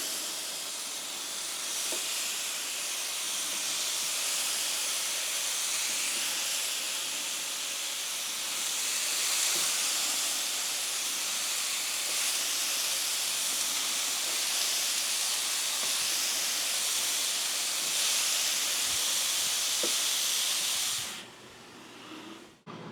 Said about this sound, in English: I think the zucchini is steaming more than it is grilling.